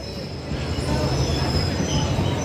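A crowded passenger train runs with a continuous loud rumble and metallic wheel squeal, heard from on board, with faint voices underneath.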